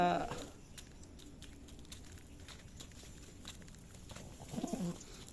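Pigeons coo softly at a pigeon farm in Shibganj, Chapainawabganj, Bangladesh. The low calls are faint and distant over quiet background patter, with a slightly louder burst near the end.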